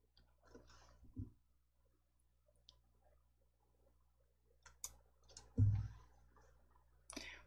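A computer mouse gives a few sparse, quiet clicks in a hushed room, spaced irregularly, one slightly heavier thump among them, with no talking.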